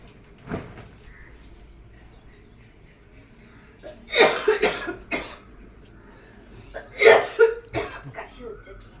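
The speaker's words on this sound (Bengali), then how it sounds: "কাশি হচ্ছে কি?" A person coughs close by in several separate bursts: one brief cough early on, then a harsher cluster of coughs, and another cluster near the end, over a quiet background.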